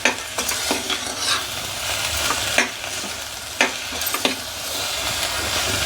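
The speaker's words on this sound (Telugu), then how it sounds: "స్టవ్ ఆన్ చేసుకున్నాం, ఒకసారి ఇదంతా కలిపేసుకున్నాం" Sweet purnam filling for festival bhakshalu is stirred in a pan on the stove, a steady sizzle broken by repeated sharp scrapes and knocks of the spoon against the pan, with no voices.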